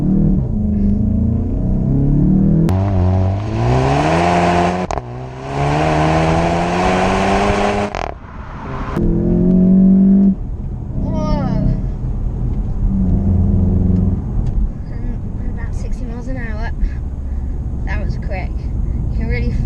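Volkswagen Golf with front-wheel drive accelerating hard from a standstill, engine note climbing steadily through the gears with brief shift breaks, loud and close from inside the cabin, with people talking over it.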